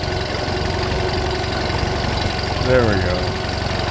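An older single-carburetor Honda outboard engine idles steadily during carburetor adjustment, a continuous mid-low hum with a brief swell near the end, while someone speaks briefly over it.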